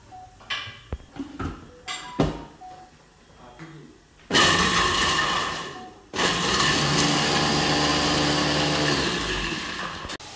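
An electric chopper blitzes garlic and green chilies in two loud bursts of whirring motor and rattling blades, following a few light kitchen knocks and clatters.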